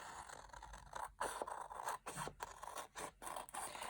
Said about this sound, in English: And then I'm going to cut this portion out.